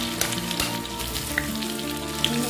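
Chilli chicken pieces frying in a pan give a close, steady sizzle with dense crackling throughout, and a few small sharp pops stand out.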